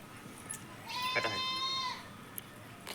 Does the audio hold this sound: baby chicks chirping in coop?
no